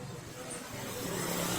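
A Yamaha Mio J scooter runs at a high idle after its ECU was replaced, a faint, steady engine hum with no clear revving throughout.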